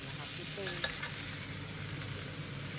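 Chinese kale stir-fries in a hot wok with a dense, continuous sizzle and a few brief scraping stirs, close up and steady for a few seconds with no speech.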